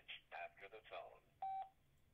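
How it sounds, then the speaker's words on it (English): A single steady voicemail beep on a phone call, clear and sustained for about a quarter second, following a recorded voice message. "Please leave a message after the tone."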